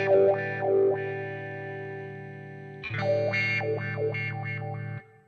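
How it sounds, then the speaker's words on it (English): An electric guitar runs through the wah effect of a Sonicake Matribox multi-effects unit, its distorted sustained chords sweeping up and down in vowel-like wah motions, two strummed chords each held for a few seconds with repeated sweeps, no talking. "I'm just going to move the range slider for you so you can hear how it wahs."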